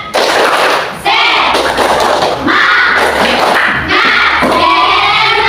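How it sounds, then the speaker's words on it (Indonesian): Schoolchildren in a classroom perform the rhythmic 'tepuk semangat' clapping routine, with loud, close bursts of group clapping and chanting voices in segmented phrases, separated by short pauses. "kita tepuk semangat dulu ya"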